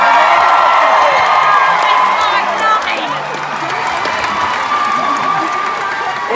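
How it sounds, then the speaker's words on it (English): A concert audience claps and cheers loudly throughout, dense applause with whoops and shouts from a large crowd, easing slightly in the middle. "Y'all give her a big round of applause."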